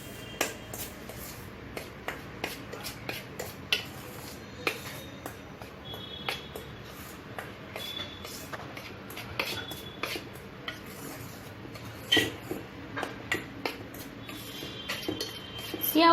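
A utensil mixes sieved dry ingredients for an Oreo cake in a bowl, with rapid clinking and scraping taps against the sides that keep going close up and fairly loud.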